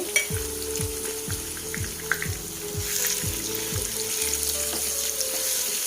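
Curry leaves and chili powder fry in a pan of oil for a bitter gourd and onion chili dish, with a steady sizzle under a series of regular scraping strokes from a spatula or spoon, close by.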